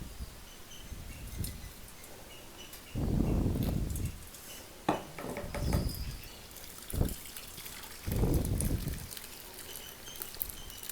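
Milk trickles and splashes through a cloth filter in several short bursts, pouring and dripping with pauses and faint handling noises between.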